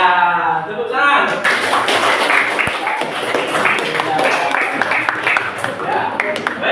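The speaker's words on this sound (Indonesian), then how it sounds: "tepuk tangan" A classroom group claps hands in a brisk burst of applause lasting several seconds, with dense sharp slaps and voices mixed in throughout.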